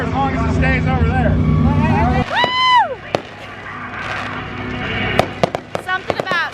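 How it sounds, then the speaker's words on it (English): Fireworks at a racetrack crackle and pop in sharp bursts, with whistling rising shells and a few loud bangs, following steady engine-like droning at the start, with crowd noise underneath. "Something about fireworks at a racetrack."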